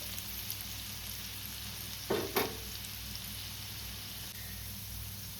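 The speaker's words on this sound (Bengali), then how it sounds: "লো ফ্লেমে আস্তে আস্তে করে এটাকে ভাজতে হবে" Soft, steady sizzle of beetroot frying gently in a pan on a low flame, with a couple of brief stirring scrapes partway through.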